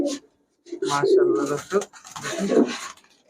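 Pakistani high-flyer Giribaj pigeons in a shop coo in a few close, throaty bursts with brief pauses between them, the calls loud against a quiet room.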